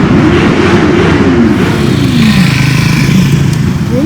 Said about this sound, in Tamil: பைக் சவுண்ட் எப்படி கேட்குது?